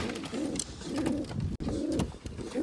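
Pigeons coo close by in repeated low, throaty phrases, a soft rolling murmur that keeps going with only a brief break.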